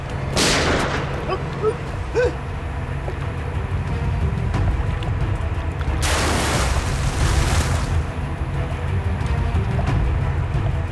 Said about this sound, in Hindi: ये लोग गोलियां क्यों चला रहे हैं?